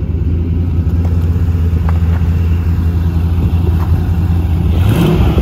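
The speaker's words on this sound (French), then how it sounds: "là, elle est en train de faire son petit régime moteur, là, elle a baissé son ralenti" A 1989 TVR 400 SE sports car engine runs loud and steady at idle throughout, with a deep continuous rumble and a slight rise in revs near the end.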